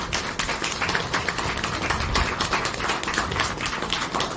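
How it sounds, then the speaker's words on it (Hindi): Audience applause at a Mother's Day celebration, a steady dense patter of many hands clapping throughout, fairly loud and close, with no talking over it. "तालियों में दम होना चाहिए।"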